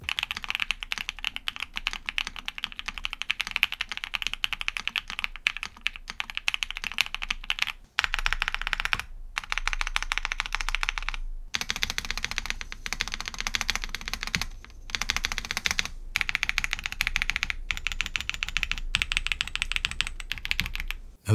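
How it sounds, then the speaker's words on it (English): A mechanical gaming keyboard with grease on its stabilizer wires is typed on in quick, close runs of crisp clacky keystrokes, broken by a few brief pauses, with no talking. "Now out of the box, this board sounds surprisingly good, and I think most people will be very satisfied with the sound."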